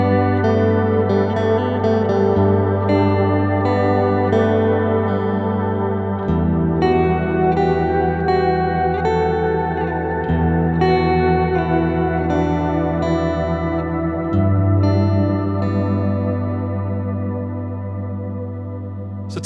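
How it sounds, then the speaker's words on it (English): Sustained guitar chords wash through a Walrus Audio Slöer pedal set to shimmer reverb, an octave-up halo blooming over each chord as the loud, layered ambient tail swells and changes with every new chord. "Everyone's favorite worship reverb, the shimmer"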